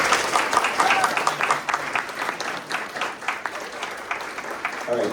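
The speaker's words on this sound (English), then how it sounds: "Could we get a round of applause for our panelists?" A seated audience at a panel discussion on Colorado's childcare crisis claps for the panelists, a dense, fairly close round of applause that swells and then tapers off over about five seconds.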